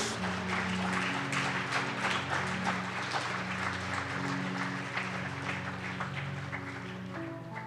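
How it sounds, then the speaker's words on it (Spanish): A church congregation applauding during a Spanish-language service, a dense sustained patter of many hands with a low musical hum underneath, fading slightly toward the end. "Dale un aplauso a Jesús."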